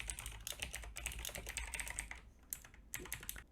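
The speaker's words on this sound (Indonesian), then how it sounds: "Kita ketikkan H2 tambah P, lalu kita tekan Ctrl E." Typing on a computer keyboard while writing HTML code, quick irregular bursts of key clicks, fairly close and soft, pausing briefly before resuming.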